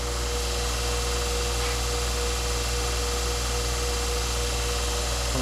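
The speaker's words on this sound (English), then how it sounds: "I love this grinder." A grinder whirs continuously and loudly while sharpening a splitting axe, a steady motor hum with an even grinding hiss and no pauses.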